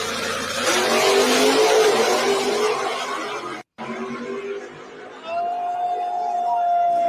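Drag race cars accelerate in a grudge race: a loud engine roar that swells and fades, broken by a brief dropout, then a rising whine as a car pulls away, with people talking over it.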